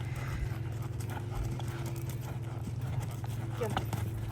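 Hooves of a Tennessee Walking horse at the canter thud softly in a steady rhythm, fairly distant, under an instructor's voice talking throughout.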